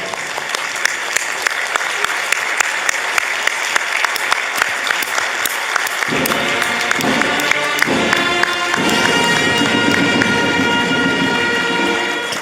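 Standing ovation at an ECOWAS summit meeting, a loud sustained roar of clapping from a large hall that swells further midway, with a tonal sound like music or voices rising beneath it.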